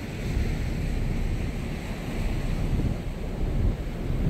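Strong wind and sea spray battering a window during a blustery day at sea on a fishing trip in Australia's southwest, a steady roaring rush of wind and surf that stays loud and unbroken throughout.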